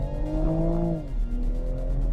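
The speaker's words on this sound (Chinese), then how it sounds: "这种新时代的引擎啊，它能够给你一个随传随到的加速感" A Toyota Supra A90 with a twin-scroll turbocharged engine pulls under acceleration, a steady, loud engine drone with layered harmonics that dip slightly midway, with no talking.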